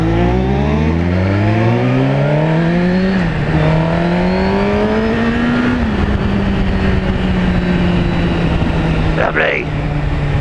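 A Suzuki GSX-R1000 superbike fitted with a Yoshimura exhaust is ridden hard, its loud engine note climbing through the revs, dropping briefly at gear changes, then holding a steady roar amid wind rush.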